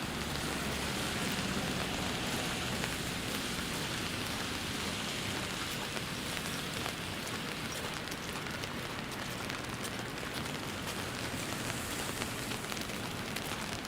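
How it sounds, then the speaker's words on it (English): Rain falls steadily across downtown Toronto streets just after snow turned to rain, a continuous dense hiss of drops on pavement with no talk and no breaks. "I come out and it's turned into rain"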